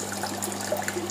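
Water rushing steadily through a tilapia recirculating aquaculture tank system, pumped at maximum flow, a continuous close trickling wash with a low steady hum beneath it.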